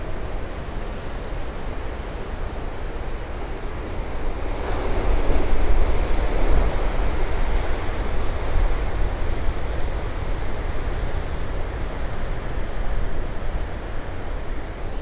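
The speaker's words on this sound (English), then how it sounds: "Some more panoramic shots of the huge wave activity here along the ocean" Huge ocean waves crash and surge against the rocks at Duncan's Landing on the Sonoma Coast, a loud, continuous roar of surf with heavy wind buffeting the microphone, swelling midway and never pausing.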